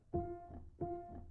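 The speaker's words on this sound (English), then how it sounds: "that's the sound of the hammers resetting." Upright piano hammer-reset release samples from the Postcard Piano instrument: two soft, close, woody thumps with a brief tonal ring, about 0.7 seconds apart, heard alone.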